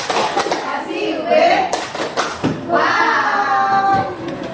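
Children in a classroom clap out the rhythmic 'tepuk wow' chant, with several bursts of group hand claps mixed in among their chanting voices and a teacher's voice.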